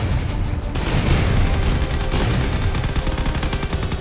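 Heavy spaceship weapons fire in a space combat game, a dense continuous barrage of rapid shots and booms, loud and unbroken.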